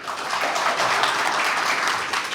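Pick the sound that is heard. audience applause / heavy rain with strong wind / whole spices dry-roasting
audience applause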